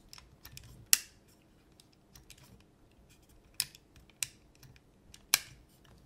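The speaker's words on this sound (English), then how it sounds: "it has a very metallic click on each step" Sharp metallic clicks from a Razer Ouroboros gaming mouse folding into position: four or five distinct, close clicks spaced irregularly over a few seconds, with faint small ticks between them in a quiet room.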